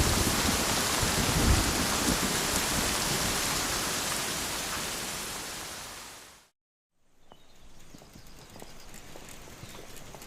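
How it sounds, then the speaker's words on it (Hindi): Stormy rain pours loudly and steadily, a dense broadband hiss that fades out abruptly, followed by quieter ambient rain-like noise. "तूफानी बारिश आमतौर पर ज्यादा देर तक नहीं रहती।"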